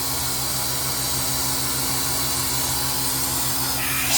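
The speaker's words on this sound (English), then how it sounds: "I'm going through, taking the vacuum off, cycling some water through" A carpet extractor vacuum with its head removed, cycling water through during urine removal from dense carpet, drones as a steady, loud motor whine with a constant low hum throughout.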